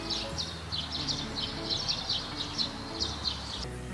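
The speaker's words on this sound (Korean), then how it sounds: "새소리" Faint, high chirping birdsong repeats in quick bursts over a low background hum, with no voices.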